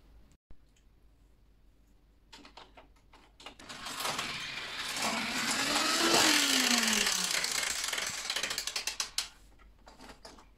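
A toy car track mechanism with a dragon that catches the car rattles and ratchets, building from sparse clicks into a loud, dense whirring of gears before breaking into rapid clicks and stopping.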